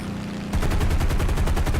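Aircraft guns strafing soft targets and AA positions in a combat game, a sudden burst of rapid, evenly spaced gunfire that starts after a half-second of quiet and keeps hammering close and loud.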